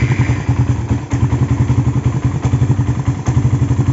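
A Suzuki Satria FU motorcycle engine, freshly fitted with an oversize Tiger piston, runs loud and close with a rough, uneven throbbing pulse and a rattly clatter, and nobody speaks.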